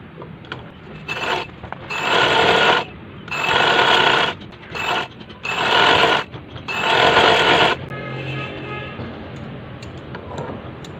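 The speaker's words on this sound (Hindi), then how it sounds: "इसको इस तरह से मैं फोल्ड करके इधर सिलाई लगा दूंगी" A sewing machine stitches a folded one-inch fabric strip on a child's designer frock, running in several loud, steady bursts separated by short pauses, then a quieter stretch at the end.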